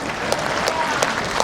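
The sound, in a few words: audience applause for the women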